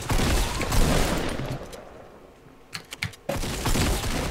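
Gunfire in Fortnite, a dense burst of rapid shots up front fading out, then a few sharp separate cracks and a loud resumption of heavy firing near the end.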